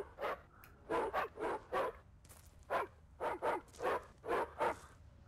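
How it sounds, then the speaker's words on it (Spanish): Dogs barking in The Eternal Castle Remastered: about a dozen sharp, evenly spaced barks in a quick steady run, fairly close, with a faint background and no talking. "Y aquí tenemos, pues, unos cuantos perros."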